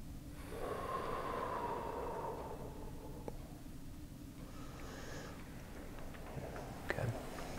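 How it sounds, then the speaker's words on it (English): A patient taking deep, slow breaths during a neck stretch in a cervical treatment session, with audible inhales and exhales close to the microphone and a few soft clicks. "Couple of deep breaths in."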